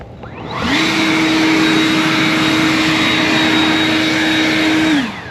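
A battery-powered snow blower spins up to a steady high electric whine with a bright fan hiss, holds for about four seconds close by, then winds down.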